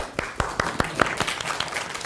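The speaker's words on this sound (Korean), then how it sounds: "박수" A small group claps at a university lecture, a brief, fairly sparse patter of hand claps at a regular rhythm, close and moderately loud.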